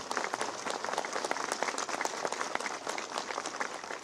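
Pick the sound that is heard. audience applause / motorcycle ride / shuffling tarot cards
audience applause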